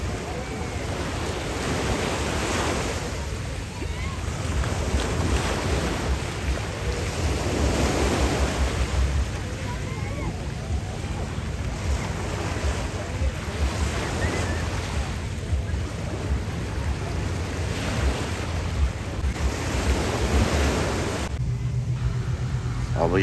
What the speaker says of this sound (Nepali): समुद्रको छाल पनि मजाले आइरहेछ